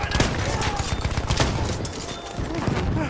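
Machine gun fire in the World War I shooter Battlefield 1, a dense, steady barrage of loud overlapping shots that runs through the whole stretch with hardly a pause.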